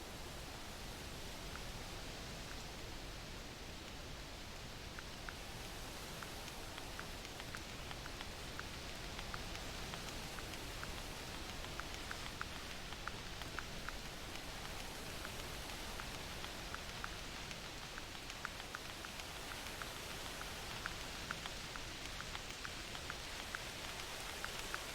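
Rain falls steadily in the hunting game theHunter Classic, a constant even hiss of drops on surfaces lasting the whole stretch with no voices.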